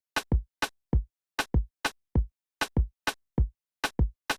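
Basic reggaeton drum loop at 98 BPM, played alone with no voices: broadband snare or hat hits alternate with deep kick thumps in a steady, repeating syncopated groove, clean and close.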